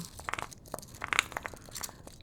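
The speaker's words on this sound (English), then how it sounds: "I'm just grinding up the spell bloom." Soft, irregular crunching and crinkling close to the mic, like dried herbs being ground in short scraping bursts, fairly quiet.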